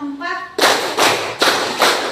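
A classroom group claps in unison during a counted clapping exercise, four loud, evenly spaced claps following a brief voice, each sharp and near.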